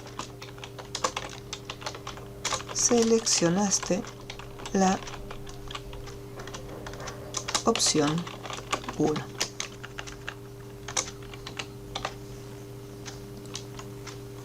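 Computer keyboard typing in quick irregular bursts of clicks across the whole stretch, with a person speaking Spanish in between and a steady electrical hum underneath.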